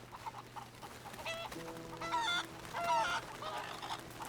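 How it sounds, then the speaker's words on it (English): Chickens cluck and squawk in the Red Dead Redemption 2 video game, a few short calls rising over quiet ambient background, with one louder burst near the end. "Chickens!"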